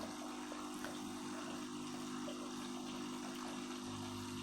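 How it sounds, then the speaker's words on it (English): A BluePet BLH 301 hang-on aquarium filter runs steadily, a constant low hum with a soft trickle of water drawn up through it, close and even throughout with no talking. "Let's turn the filter on. Filter is now running."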